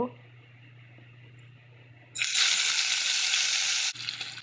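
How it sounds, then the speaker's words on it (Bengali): Pangas fish drops into hot mustard oil in a pan, setting off a loud, dense sizzle that bursts in after a quiet stretch of low hum and holds steadily for about two seconds before cutting back. "মাছটা এখন আমি ভেজে নিব"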